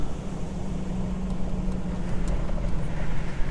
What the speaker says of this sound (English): So we're still driving on district roads.